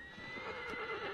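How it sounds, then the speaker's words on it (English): A horse whinnies in a long, wavering neigh in the video game Shadow of the Colossus Remake, fairly close and clear, over a faint steady background hum. "Oh! Horse!"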